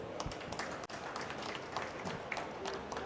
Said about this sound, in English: Give a round of applause to all of us.